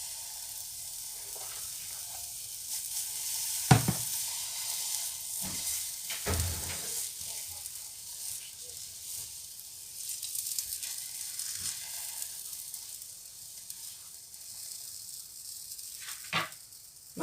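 Banana pancake batter cooking on its first side in a pan gives off a faint, even hiss that runs steadily throughout, broken by a few brief clicks and knocks nearby, with no voices.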